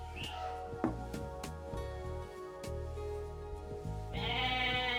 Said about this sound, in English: Blue has a goat here.